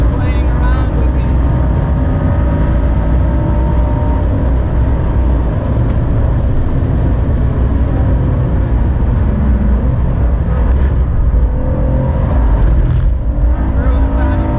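A McLaren Senna and a Ford GT racing on a track, with dense, continuous engine roar and wind noise heard loud from inside a car, constant throughout with a voice talking over it.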